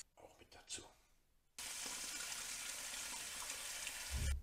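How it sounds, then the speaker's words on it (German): Cold tap water pours steadily into a stainless steel bowl while preparing homemade ham for cold smoking, a broad continuous rush that starts abruptly after a brief quiet moment with faint movement sounds. "Kommt gleich in meine Edelstahlschüssel. Kaltes Wasser natürlich."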